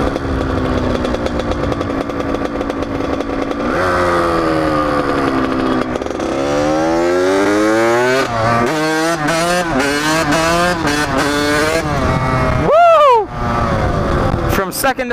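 A motorcycle accelerates hard through second to fourth gear, its loud close engine climbing in pitch, dropping briefly at each upshift and climbing again, with a rider talking over the roar.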